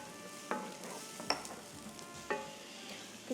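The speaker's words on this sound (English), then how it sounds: "We're gonna start giving that a little bit of saute." Onions sautéing in a pan on the stovetop, a faint steady sizzle broken by a few sharp scraping stirs of a utensil against the pan.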